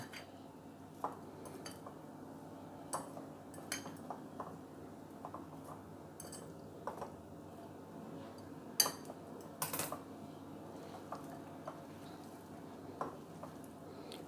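A spoon scraping and clinking against a bowl while spices and salt are mixed into chopped onion for kanda bhaji, with scattered light taps over a quiet background and no talk.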